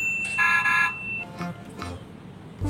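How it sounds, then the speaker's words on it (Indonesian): Electronic horn sound effect from a toy Digicar friction car, a short bright beeping tone with a few brief electronic blips after it, close and fairly loud. "Seperti klakson."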